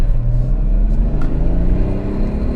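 Toyota Aristo with a 2JZ engine idles and revs, a loud, close, steady rumble with a faint metallic whir from the clutch, no voices.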